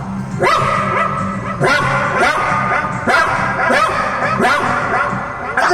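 A mimicry artist on stage imitates a poor household's dog barking, giving several loud, evenly spaced woofs close up, with no other talk.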